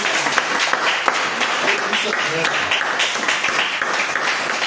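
A church congregation applauds during a worship service, a steady, lively patter of many hands clapping for several seconds, with a voice speaking over it.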